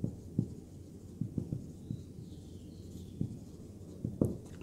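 Soft, scattered taps and strokes of chalk writing an equation on a board, irregular and faint against a quiet room hum with no talking.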